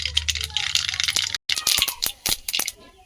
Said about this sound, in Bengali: যেহেতু তেল খুব ভালোভাবে গরম হয়েই আছে, দিয়ে দেবো প্রথমে শুকনো লঙ্কা, দিয়ে দেবো গোটা সর্ষে